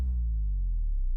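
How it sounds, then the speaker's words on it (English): Soloed big sub drop opening a nu-metal/shoegaze breakdown: a single deep, booming low tone that hits at once and slowly slides downward, loud and alone for about a second. "We also have this big sub drop that happens here at the start of the breakdown."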